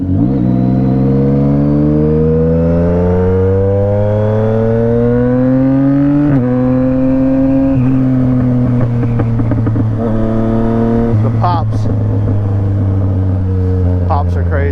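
A motorcycle with ABS switched off revs hard and accelerates through a wheelie, its loud engine note climbing in pitch across several gear pulls, close and continuous, with a few sharp pops near the end.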